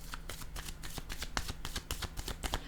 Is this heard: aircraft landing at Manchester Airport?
no